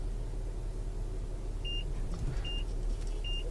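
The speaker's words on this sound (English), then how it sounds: "I hope you can pick up the beep." A Mazda CX-9's parking sensor gives three short, evenly spaced electronic beeps while the SUV reverses, each tone clear over a low steady engine rumble inside the cabin.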